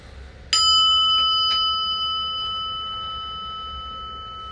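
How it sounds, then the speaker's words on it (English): A small prayer bell rung for meditation, one clear bright strike that rings on and fades slowly in a quiet room. "a little prayer bell"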